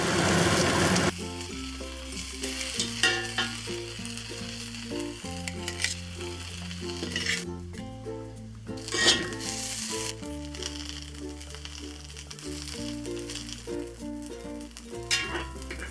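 Thick Shanghai noodles with Napa cabbage stir-frying in a hot wok, sizzling continuously with occasional stirring clatter, heard alone under faint background music.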